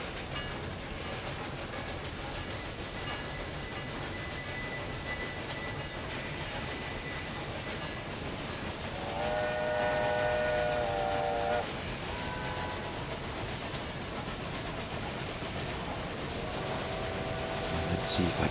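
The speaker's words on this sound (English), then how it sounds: "a mail train heading my direction." A mail train passes in the Railway Empire 2 video game, its rolling rail noise steady throughout with a whistle-like tonal call rising midway and again near the end, under a voice talking.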